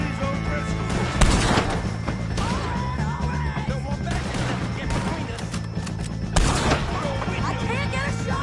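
Gunfire in Red Dead Redemption 2 during a shootout with O'Driscoll gang members: sharp shots cracking out at irregular intervals, with two louder blasts standing out, over constant game noise and shouted voices.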